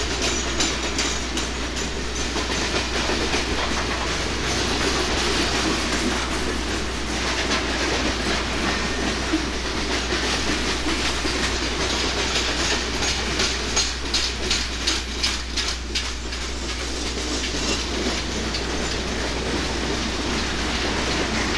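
Norfolk Southern freight train rolling along a street-running mainline through Warsaw, Indiana, with steady loud rumble and rhythmic clickety-clack of wheels over rail joints throughout, close by and continuous.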